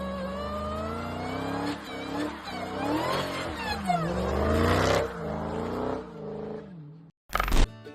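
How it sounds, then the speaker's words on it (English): A Dodge Charger's engine whines as it revs, its pitch climbing and falling repeatedly at close range before a sudden cut and a short loud burst at the end. "Man, this Dodge Charge whines."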